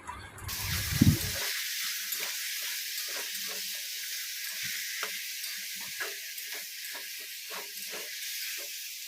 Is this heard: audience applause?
no